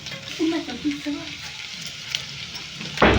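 Potato and dried fish fry in a pan with a steady crackling sizzle, and a few brief vocal-like tones come early on before a sudden loud clatter at the end.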